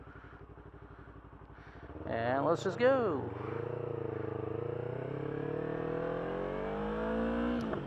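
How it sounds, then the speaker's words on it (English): A motorcycle engine revs a couple of times in traffic, then pulls away and accelerates under a sustained, rising drone, with a rider speaking briefly over it. "do a couple of revs so they know that I'm coming through"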